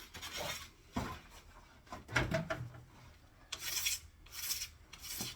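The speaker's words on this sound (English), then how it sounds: "use the short side of your scraper with a guide finger to scrape the edges" A scraper rasping cold wax off a ski in repeated short strokes, soft and close, with uneven rough scraping passes and brief pauses between them.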